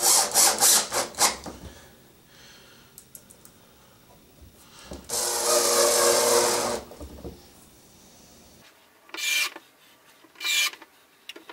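A drill drives screws into MDF during a built-in cabinet build, with a short run of rasping bursts, a longer steady whir, then a few brief spurts, close by and with no talking.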